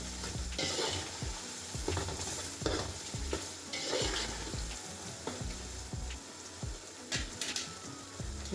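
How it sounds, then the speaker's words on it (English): A spoon scrapes and knocks rhythmically around a pot of cooking tomato for lamb biryani, with steady sizzling and bubbling underneath, close and moderately loud. "I'm just going to stir the pot, and then I'm going to drop in my meat."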